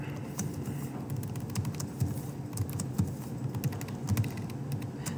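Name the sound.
fast typing on a computer keyboard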